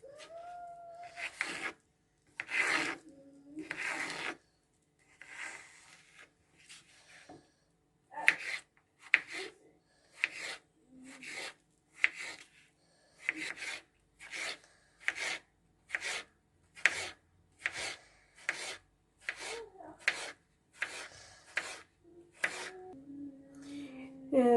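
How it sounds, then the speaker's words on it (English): A knife chops cucumber on a board in a home kitchen, about twenty crisp, evenly spaced strokes that come close and fairly loud, in short rhythmic runs with small pauses between them. "First step is I will chop the cucumber."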